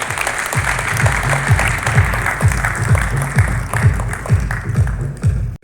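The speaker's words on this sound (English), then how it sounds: "Mr. U. Vishwanathan, kindly give a round of applause, please." An audience at a media event gives a round of applause, sustained dense clapping close and loud for several seconds before it ends abruptly.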